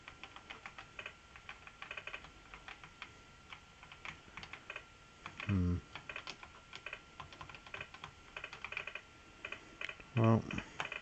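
Keys clatter on an Apple IIe computer keyboard in irregular bursts of typing, with a couple of heavier, louder key thumps standing out amid the quieter tapping.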